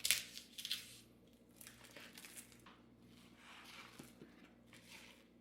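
Plastic packaging around a 3.28-pound flat-cut beef brisket is torn and crinkled open, with sharp rustling bursts at the start followed by softer intermittent crumpling and handling noises.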